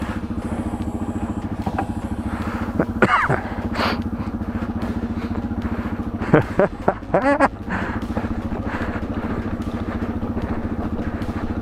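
A Yamaha TW200 motorcycle rides a forest trail in Capital Forest, its single-cylinder engine thrumming steadily and close throughout, with a few louder rattles and clatters over rough ground midway.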